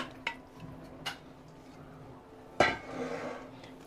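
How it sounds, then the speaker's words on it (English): Boiled potatoes tumbling into a potato salad dressing in a bowl, with a few sharp spoon-on-bowl clinks and a soft wet scraping swirl after a louder thump near the end, all fairly close with no talking. "potatoes are going in to our dressing"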